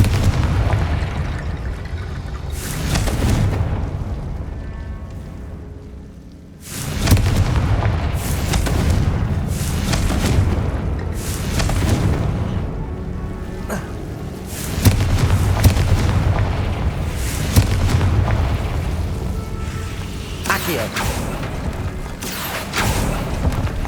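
Spell explosions from Bombarda and Confringo in the Hogwarts Legacy video game, a long run of heavy booms and crackling blasts that come in repeated bursts over a constant rumbling battle din, with one brief lull partway through.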